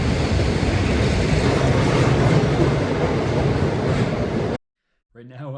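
A train pulling out of a station in Poland, a loud steady rumble and rolling roar close by that cuts off abruptly, followed by a brief moment of talk.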